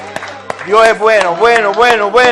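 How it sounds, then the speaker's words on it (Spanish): A church congregation claps in steady rhythm, with a couple of sharp claps first and then continuous beats under loud group singing of a praise chorus. "Dale un aplauso al Señor"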